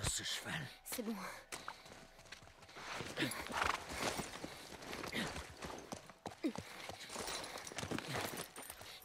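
Horse hooves clip-clop along with snorts and a whinny in the game The Last of Us Part I, mixed with game sounds and breathy voice sounds.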